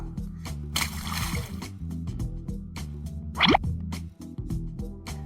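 Small pebbles drop one at a time into a clay water pot in a cartoon about a thirsty crow, giving a few soft watery plops over steady background music.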